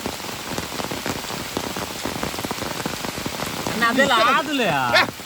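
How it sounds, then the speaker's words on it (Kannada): Steady rain patters densely on a surface nearby, with a voice speaking briefly over the downpour toward the end. "ಮಳೆ ಬಂತು ಮಳೆ ಬಂತು ನೋಡಿ ಮಳೆ"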